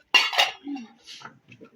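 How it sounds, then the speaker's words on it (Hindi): Steel dishes, pots and utensils clatter and clink as they are washed in the evening, a couple of sharp close clanks followed by lighter scattered knocks, with a voice faintly present. "अभी जी यहाँ पे हम बर्तन वगैरह धो रहे हैं शाम के"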